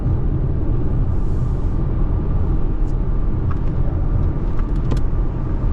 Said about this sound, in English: Let's listen to road noise.